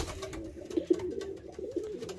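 Racing pigeons coo softly in a loft at dusk, a few low throaty warbling calls rising and falling over a murmur of other birds, close and alone without talk.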